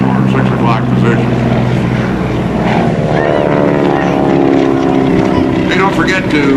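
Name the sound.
GEICO Skytypers propeller aircraft flying at airshow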